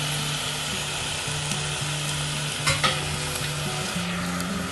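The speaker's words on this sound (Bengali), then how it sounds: "নাড়াচাড়াটা একটু বেশি করতে হচ্ছে, কারণ যেহেতু আমি তেল দিইনি ওই জন্য যাতে তলা না লেগে যায়" Marinated chicken frying without oil is stirred steadily in a pan, producing a continuous close sizzle with scraping stir strokes and a low steady hum beneath, plus a couple of brief louder clatters near the middle.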